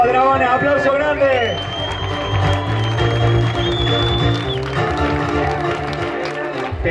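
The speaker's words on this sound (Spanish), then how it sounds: "vamos, dragones, aplauso grande" Crowd applause at the prize-giving of the Dragon Battle Race obstacle event in Santiago del Teide, a steady wash of clapping and cheering mixed under loud music and an amplified announcer's voice.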